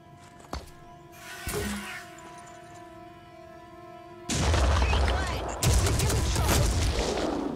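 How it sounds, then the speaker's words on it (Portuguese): Explosions and gunfire in the Phoenix Point tactical video game, with a sharp early crack, then a loud grenade blast at mid-clip followed by a second heavy burst, all over a steady tonal game hum. "Vai tomar granada."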